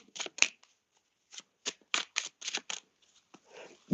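Tarot and oracle cards being shuffled by hand in a series of crisp riffling bursts with short pauses between them, close and fairly quiet.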